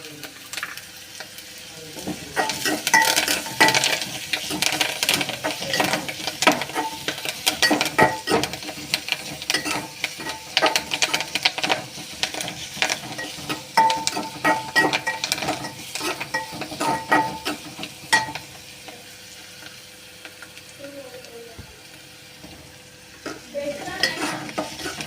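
Curry leaves and onions sautéing in a pan for a drumstick-leaf soup, a steady, close sizzle with frequent stirring and scraping that runs throughout, easing slightly near the end.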